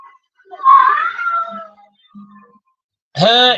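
A cat meows several times, a drawn-out plaintive cry followed by quieter mews and a short, sharp final yowl, close and clear against silence.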